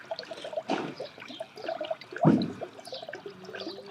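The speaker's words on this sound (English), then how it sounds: "we're adding coolant" Coolant poured into a new Skunk2 radiator on a boosted 8th-generation Honda Civic Si, a soft trickling and glugging stream with a few louder splashes, close by, with no talk.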